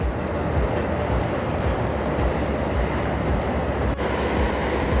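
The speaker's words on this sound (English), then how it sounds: "This is the high-speed ferry" A high-speed ferry reverses out of Boston Harbor, giving off a steady, dense rumble of engines and churning water that stays loud and even throughout, with one short dip near the end.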